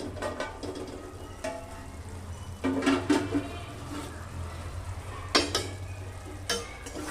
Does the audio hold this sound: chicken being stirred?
yes